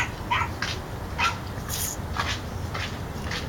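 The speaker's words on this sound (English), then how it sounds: "The dogs are going crazy" Several dogs indoors make short, excited yips and whimpers at a moderate distance, coming in repeated bursts over a steady background hum.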